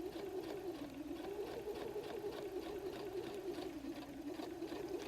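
A sewing machine back stitches at the end of a seam on a messenger bag pocket, its motor giving a quiet, continuous whirring hum without pause.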